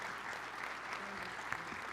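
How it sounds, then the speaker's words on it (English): Applause for finalists at the Mr. Hockey Banquet, a brief steady patter of clapping from a banquet audience, moderately faint throughout. "Let's give one more round of applause for all of these finalists."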